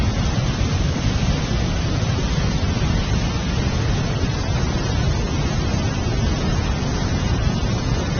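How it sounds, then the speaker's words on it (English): Heavy rain roars in a dense, steady wash with deep rumbling underneath, continuous and loud throughout, no voices. "Terrible storm in Piombino,"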